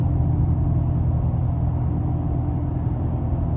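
Steady, loud low rumble of aftermarket tires rolling on pavement, a continuous road drone from inside a moving lifted Chevrolet Silverado pickup truck, with no other sounds on top.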